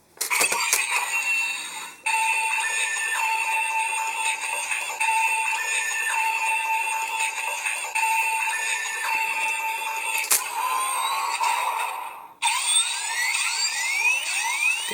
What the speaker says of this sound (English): Get a standby sound.